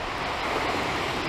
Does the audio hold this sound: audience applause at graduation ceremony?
no